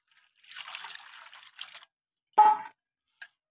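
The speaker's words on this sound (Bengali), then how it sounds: "আবারও এখানে আমি 1 মগ জল দিয়ে দেবো।" Water poured from a mug, a short trickling splash lasting about a second, then a brief louder gush and a faint final drip, close by in a quiet kitchen while preparing homemade potato starch.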